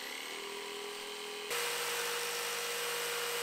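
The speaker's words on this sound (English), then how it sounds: "I'm going to jigsaw it out" A jigsaw cuts a section out of a wooden board for a compost toilet after a pilot hole has been drilled, a steady buzzing motor hum that jumps louder and harsher about halfway through as the blade bites in, running continuously and close.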